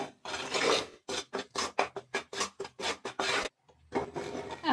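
Roasted besan (gram flour) stirred in a hot kadhai: a steady run of rhythmic scraping strokes, about a dozen close, loud rasps in quick succession, then a brief pause before another scrape.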